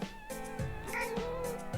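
A cat meows a few times, close and fairly clear, over a steady background hum with no talking.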